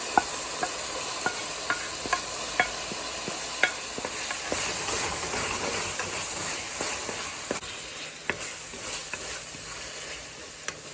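An egg mixture, the egg brain or ande ka magaz dish, sizzles and fries in a pan with a steady hiss, while a spoon stirs and taps against the pan in regular sharp clicks, close up with no talking.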